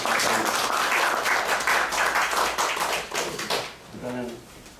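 Audience applause at a Korean civic forum, a dense crowd clapping at a fairly loud level that tapers off toward the end as a voice begins speaking.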